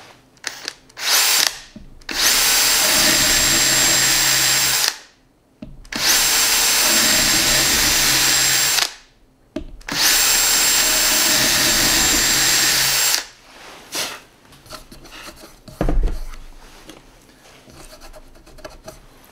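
A power drill with ground HSS wood bits whines loudly in three long bursts, each cutting into wood, with short pauses between and quieter scraping and handling noises afterward.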